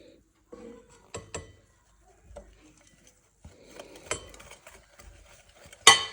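A spoon stirs dry cake ingredients and ground cashews in a bowl, making soft scrapes and light clinks that come in irregular bursts and end in a louder scrape.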